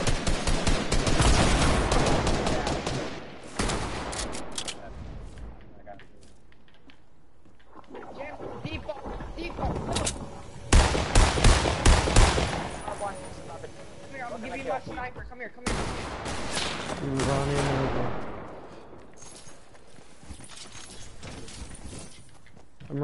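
Gunfire in the Fortnite video game, loud bursts of rapid shots in several clusters with quieter gaps, under ongoing talk.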